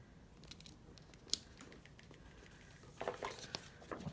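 Scissors cut through sticker sheets in a quiet indoor space, giving a few faint snips and crisp clicks. A sharper snap comes near the start, then a short run of closer cuts and rustles toward the end.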